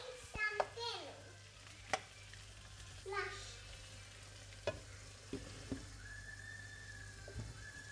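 Garlic, butter and prawns are stirred in a pan with a low steady sizzle, punctuated by sharp utensil knocks and scrapes; a voice speaks briefly near the start.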